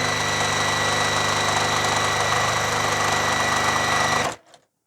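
A sewing machine stitches a quilt seam, its steady mechanical whir running loud and continuous for about four seconds before stopping abruptly.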